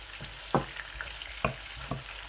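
A tablespoon of garlic paste fries in a pan with chicken, a soft low sizzle broken by a few scraping stirs of a spoon, close and quiet, no voices.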